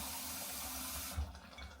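Water pours steadily into a cooking pot of sardine soup for about a second, a close, continuous splashing rush that cuts off abruptly with a small clunk.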